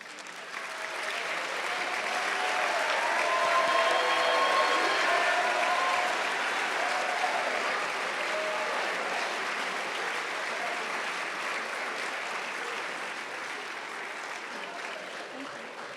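Sustained applause from an awards-ceremony audience at a college athletics awards event, honoring student athletes who stand; steady, dense clapping that swells early and holds evenly for the whole stretch before slowly thinning.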